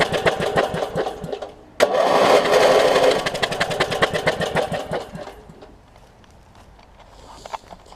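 A Craftsman LT1000 riding mower with an opposed-twin engine and a suspected hot, failing coil cranks and catches, running with a rapid loud chug close by, then drops to a quieter idle.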